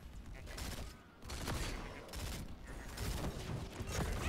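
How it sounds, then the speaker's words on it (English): Jim Raynor's gunfire in Heroes of the Storm: a quick run of sharp game gunshots layered over busy battle effects, moderately loud and continuous, with no speech. "I want to shoot you and your friend with my gun"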